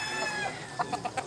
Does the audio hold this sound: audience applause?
no